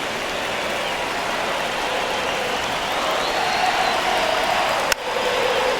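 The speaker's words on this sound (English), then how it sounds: "You can hear the crowd chanting Jose's name." A simulated crowd at an MLB baseball video game, Red Sox against Guardians, roars as a broad, steady wash of noise that swells slightly before a short click and dip near the end.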